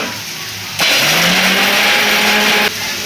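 A kitchen mixer grinder whirs into a loud, steady motor drone while grinding cashew paste, then cuts off after about two seconds against quieter background noise.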